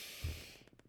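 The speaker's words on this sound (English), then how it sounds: "take a deep breath in through your nose" Deep breath drawn in through the nose at a calm bedtime routine, a soft rushing inhale swelling near the start and then fading, followed by faint quiet pulses as the breath settles.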